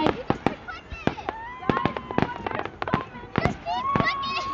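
Fireworks at a Canada Day display in Downsview Park, Toronto, go off in a rapid series of sharp bangs and crackling bursts, some close and loud, with whistling rockets rising between them while people talk and react nearby.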